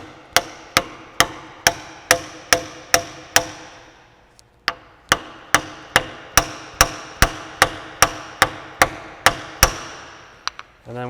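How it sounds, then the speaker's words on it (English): Steady, loud hammer blows drive a rear axle seal into a 2012 Dodge RAM 1500, each a sharp metallic clang with a short ring, in a regular rhythm, pausing briefly midway before continuing. "we just hammer this thing in until it bottoms out"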